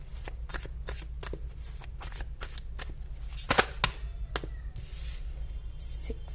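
Tarot cards shuffled by hand during a psychic tarot reading, a steady run of crisp riffling snaps and flicks with a few louder slaps near the middle, close and alone over a low background hum.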